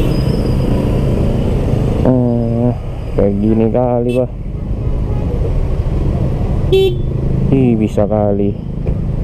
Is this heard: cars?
yes